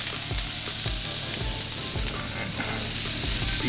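Olive oil and butter hitting a very hot cast iron pan make a loud, steady sizzle with a bright hiss, broken by a few soft knocks and spatters.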